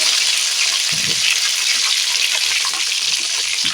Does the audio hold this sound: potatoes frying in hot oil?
yes